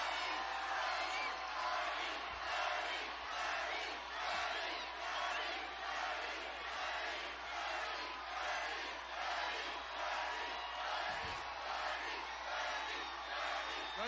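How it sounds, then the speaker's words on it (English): A large crowd at a Bernie Sanders campaign rally in Atlanta cheers and whoops steadily, a dense continuous roar of voices with applause that stays loud and even throughout. "Everyone give him a round of applause."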